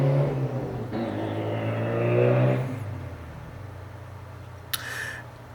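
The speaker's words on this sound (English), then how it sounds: "a car with a crappy muffler cutout and what sounded like it might be a turbo went by" A passing car with a loud muffler cutout and a possible turbo roars by, its engine note swelling and then fading. A brief high chirp follows near the end.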